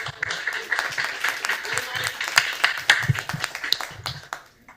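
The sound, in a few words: audience applause welcoming a pitch speaker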